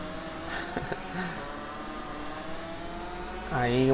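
Motorcycle engines in the MotoGP 15 racing game whine and rise in pitch as bikes race and overtake, a steady high drone that climbs sharply near the end, heard beneath a voice.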